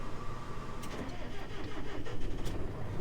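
A farm vehicle's engine cranks and catches, a rough mid-pitched rumble turning over unevenly for a few seconds close by, with no talking.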